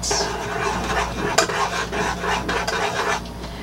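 A spoon stirs melted butter and chocolate in a pot, giving a steady scraping, rasping swirl with soft clinks against the metal, continuous and close with no voices.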